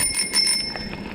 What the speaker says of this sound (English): Also, you probably hear that bell.